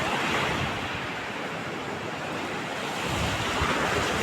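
Strong sea waves surge and crash continuously onto a beach, a loud, steady roar of surf mixed with gusting wind buffeting the microphone, with no voices.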